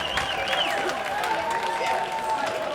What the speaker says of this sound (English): Let's have a round of applause for Kiki and Herb